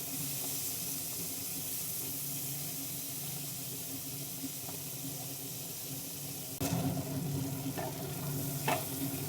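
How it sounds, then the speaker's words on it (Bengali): Prawns coated with turmeric and salt fry in a pan with a steady low sizzle, and a sharper burst of stirring and scraping comes near the end. "চিংড়ি মাছগুলো প্রথমে ভেজে নেব"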